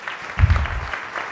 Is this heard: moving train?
no